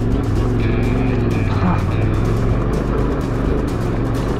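A motorcycle engine strains up a steep, rough trail on a long-distance off-road ride, a loud, steady close-up drone with a slight rise in pitch partway through, no talking.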